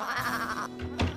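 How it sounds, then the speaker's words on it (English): Sheep bleat close by, one bleat followed by a shorter second call, with no talking. "What are my sheep doing here?"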